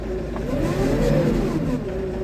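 New Holland T5.120 BlueMaster tractor engine revving up and easing back, a steady loud mid-pitched drone that swells in the middle and settles, heard close with no talk.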